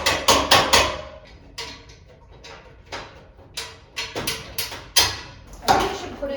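Repeated sharp hammer taps knocking bolts out during house demolition, coming in quick bursts of three or four metallic strikes with short pauses between, close and loud, with people talking nearby.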